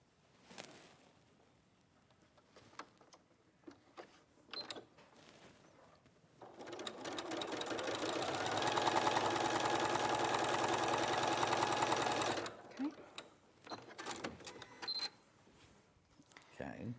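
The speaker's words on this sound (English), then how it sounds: "I'm going to use a small stitch, so I'm going to reduce that down to, say, 2. Right. And I'm just going to stitch along that line." A sewing machine fitted with a walking foot runs a steady small stitch along a quilt line: a loud, continuous mechanical whir of several seconds in the middle, with quieter handling sounds and a voice before and after.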